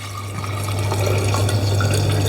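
Creamy homemade cashew and hemp milk pours steadily into a jug, a continuous liquid gush with a low hum underneath, close and fairly loud throughout.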